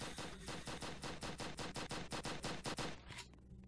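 Rapid automatic gunfire in the Roblox video game, a fast evenly spaced burst of about twenty loud shots over three seconds, stopping abruptly.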